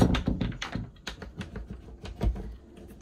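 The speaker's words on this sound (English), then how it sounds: "Door shuts and latches, which is nice." A small boat's head door swings shut and latches, giving a quick run of close, sharp clicks and knocks from the latch and frame, with no voices.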